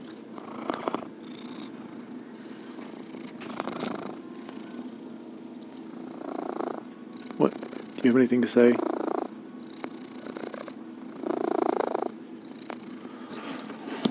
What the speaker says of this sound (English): See if everyone can hear you purring.